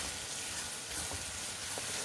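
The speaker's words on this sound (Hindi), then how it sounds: "प्याज को आप भूनते हैं तकरीबन 5 से 6 मिनट तक प्याज को ब्राउन करते हैं।" Onions frying in oil in a kadai with whole spices such as cinnamon, black cardamom and star anise, giving a steady broadband sizzle with faint stirring taps, close and continuous.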